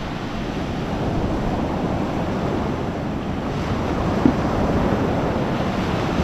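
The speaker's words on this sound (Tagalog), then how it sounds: "Basta alon yun o." Ocean waves at sea roll and wash in a steady, continuous surf with gusty wind buffeting the microphone throughout, loud and close, with no talking.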